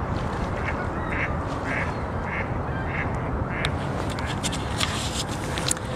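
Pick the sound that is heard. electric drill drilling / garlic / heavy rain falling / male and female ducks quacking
male and female ducks quacking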